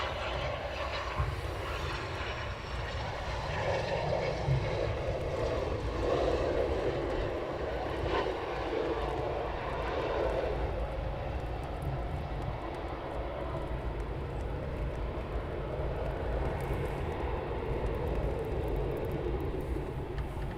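A Eurofighter Typhoon jet flies circuits at RAF Coningsby, its engine roar a steady, continuous broadband rumble that stays loud throughout with no talk over it.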